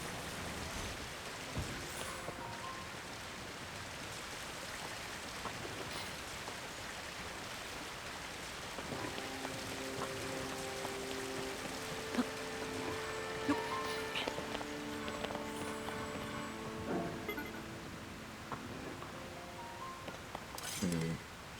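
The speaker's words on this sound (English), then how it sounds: "I wonder if I can jump into the waterfalls" Rushing waterfall in the video game The Legend of Zelda: Tears of the Kingdom: a steady, soft broadband hiss of falling water runs throughout, with faint musical tones rising over it midway.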